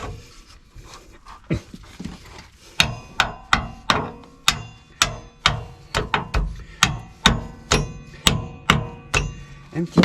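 Repeated hammer blows during the fit-out of a camper van, a few scattered knocks then a steady run of sharp, fairly close strikes, with a dog panting and whimpering nearby.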